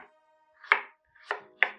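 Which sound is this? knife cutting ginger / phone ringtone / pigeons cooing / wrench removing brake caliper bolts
knife cutting ginger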